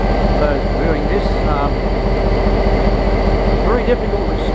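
A passenger train passing in Brisbane gives a steady, loud rolling rumble with squealing wheel tones throughout, while a voice talks over it.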